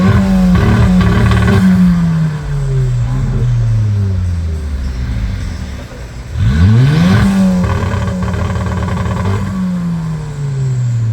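Race cars at a starting line rev loudly and close, engines sweeping up and down in pitch with a second surge of revving after a short dip.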